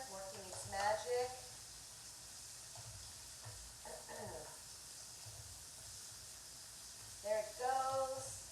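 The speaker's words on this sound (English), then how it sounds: "My steak is sizzling away." A steak fries in a pan with a steady sizzle hissing throughout, with occasional stirring and brief speech-like bursts near the start and end.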